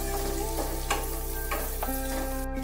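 Chili powder and chili flakes fry in oil and are stirred in a pan, a continuous close sizzle punctuated by a few soft scraping stirs, with no talking.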